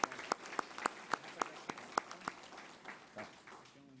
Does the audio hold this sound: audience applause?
yes